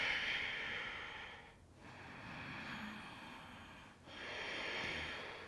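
Slow, steady ujjayi breathing held through a yoga warrior two pose, a soft hissing rush of air flowing in long waves with two brief pauses between breaths, close and even.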